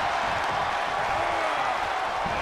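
An arena crowd cheers in the wrestling video game WWE 2K24, a dense, steady roar of many voices filling the whole stretch without a pause.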